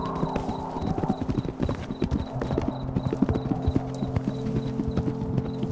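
Horse hooves pound in a quick, rhythmic clip-clop at close range, the beats fast and uneven like a gallop, with a faint whinny or low background tones mixed in.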